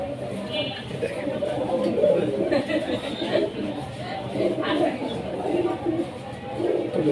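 Fancy pigeons at a sale coo softly amid background chatter while someone talks close by.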